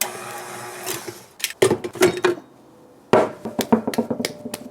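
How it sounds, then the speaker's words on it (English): A stand mixer kneads and mixes burger bun dough in its bowl. The sound is an uneven series of knocks and thumps, quiet at first and then louder and choppier, with a pause partway through. "now we're gonna let this knead and mix for probably about 10 minutes until it's nice and smooth and pulling away from the sides of the bowl"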